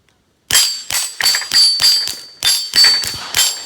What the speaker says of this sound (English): We'll shoot the dirt so you can hear it.